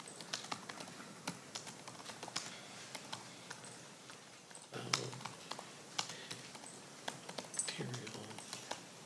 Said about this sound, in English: I'm still typing that, Judge.